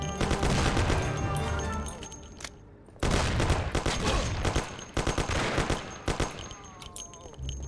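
Gunfire from the video game Mafia, dense bursts of rapid shots in a close, loud fusillade that breaks off briefly and then resumes in several repeated volleys.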